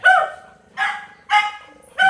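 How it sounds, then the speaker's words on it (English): Nearby dogs bark in a steady rhythm, four loud, sharp barks spaced about half a second apart with no talking over them. "I don't want to bother those dogs."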